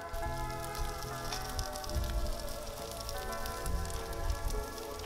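Beets searing in a hot pan give a steady, close crackling sizzle that runs the whole time, with a faint tonal hum underneath.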